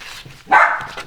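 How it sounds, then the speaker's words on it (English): A dog named Noah lets out a single loud bark near the middle, with quieter yips and whimpers before and after it, close by in a quiet sunroom. "You want to tell Noah to stop barking?"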